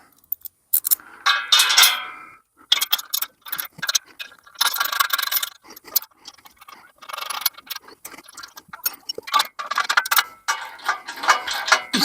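Bolts on an Iron Rhino 16ft firewood conveyor being tightened with a ratchet: close, rapid bursts of metallic clicking in short irregular runs with brief pauses, no talking.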